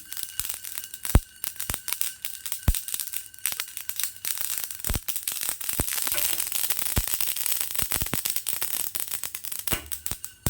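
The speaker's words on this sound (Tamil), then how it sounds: "நல்லா அந்த கடுகு பொரிய பொரியணும் இல்லாட்டி கசக்கும்" Mustard seeds pop and splutter in hot oil in a home kitchen while egg gravy masala is prepared, giving sharp irregular crackles and pops over a steady sizzling hiss, close and fairly loud, with no talking.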